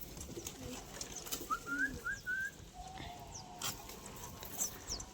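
Pigeons coo softly in a few short rolling calls, with faint ambient background and a brief whistle-like chirp nearby.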